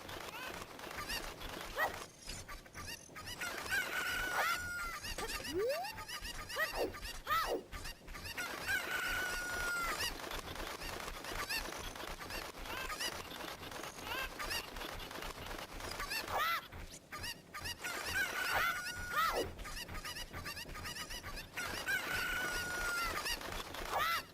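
Chickens and a crowing rooster sound in a video game, recurring bursts of clucks and crows over a steady backdrop of game audio.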